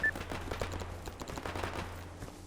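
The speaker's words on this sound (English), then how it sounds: "Scientist shooting as a zombie." Automatic gunfire from a zombified scientist in the S.T.A.L.K.E.R. Anomaly video game: rapid bursts of shots crackle over a low steady hum, fairly quiet and at some distance, with no talk.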